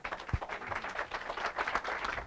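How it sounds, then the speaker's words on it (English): An audience at a city safety summit session claps for a panel, a steady moderate patter of many hands heard from a distance throughout. "Can you all give them a round of applause?"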